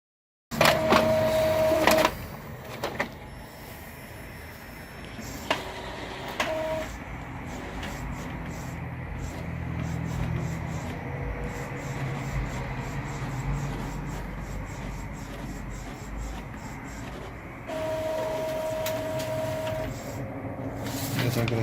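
An Epson EcoTank L3160 inkjet printer runs a test page: whirring motor passes, mechanical clicks and a shuttling print head that moves back and forth, with brief high whines at the start and near the end, heard up close without speech.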